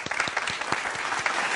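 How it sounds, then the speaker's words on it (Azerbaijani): Applause from a theatre audience at a stage event about national dances, individual claps audible as a quick irregular patter, moderately close and steady. "Alqışlarınız gəlsin, əziz tamaşaçılar"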